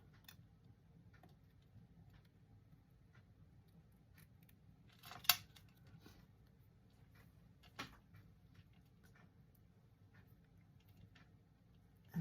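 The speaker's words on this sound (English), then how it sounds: "Paper snips are great for this." Paper snips cutting around a paper card-making piece, giving a couple of brief crisp snips near 5 and 8 seconds over quiet room tone with no talking.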